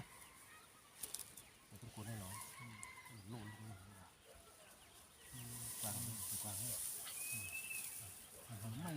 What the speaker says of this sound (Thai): โอ้นี่ไก่ท่านผู้ชม